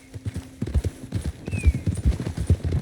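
Horse hooves in the Red Dead Redemption 2 video game clop in a quick, uneven rhythm up close, with a short whinny breaking through partway.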